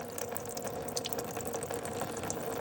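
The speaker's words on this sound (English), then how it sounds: "look how much water's coming out" Water pouring and trickling steadily out of a Jeep CJ5 transmission, a continuous close splashing flow with no talk over it.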